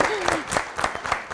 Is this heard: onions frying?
no